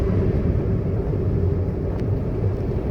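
A Toyota Starlet's engine drones as a low, steady rumble from inside the moving car, constant and unbroken with no voices.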